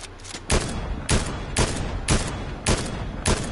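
Bursts of gunfire in a Fortnite match, loud and close, with about six sharp shots or short volleys at a steady rhythm over continuous game background noise.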